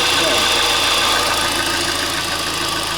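A Hyundai/Kia G4KD engine with scored cylinders idles loudly nearby, with a steady mechanical drone and a fast, even knocking that runs through the whole engine.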